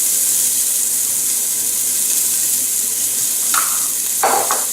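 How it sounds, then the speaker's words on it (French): Shallots and green onions sautéing in olive oil in a pot, a steady soft sizzle throughout with a couple of brief clinks or stirring touches near the end, no talking. "Je vais faire revenir mes échalotes françaises"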